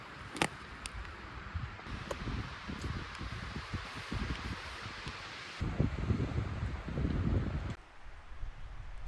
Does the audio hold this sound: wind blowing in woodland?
yes